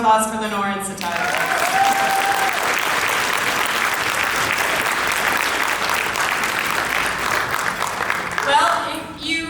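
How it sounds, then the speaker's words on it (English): A full room at a Nanaimo business awards gala claps steadily for about seven seconds, thick and even, bracketed by a speaker's voice at the start and a voice returning at the end. "One more round of applause for Lenore and Satire."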